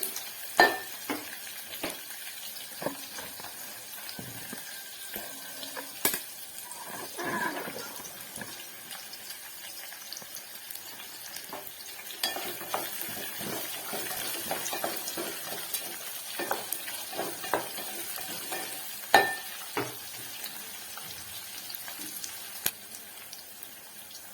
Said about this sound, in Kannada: ಈರುಳ್ಳಿ ಚೆನ್ನಾಗಿ ಫ್ರೈ ಫ್ರೈ ಆಗಬೇಕು